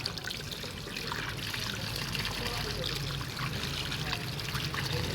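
Mango seeds being washed under running water from a tap, a steady trickling, splashing flow with soft rubbing and handling noises that stay fairly constant and close for the whole stretch.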